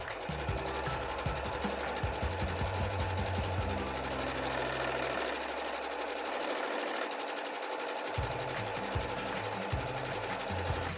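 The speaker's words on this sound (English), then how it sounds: "I'm going to sew a whole bunch of this strip set without stopping." Sewing machine running nonstop through a fabric strip set, a fast, dense mechanical stitching rattle with brief speed changes, close and steady, no talk.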